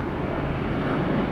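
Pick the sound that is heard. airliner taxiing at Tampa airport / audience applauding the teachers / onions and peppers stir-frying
airliner taxiing at Tampa airport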